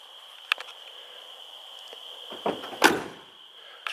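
Car doors on a 1969 Dodge Coronet 440 survivor shut with a single sharp thunk, then two heavier slams close together later, each loud and alone over a faint steady hum.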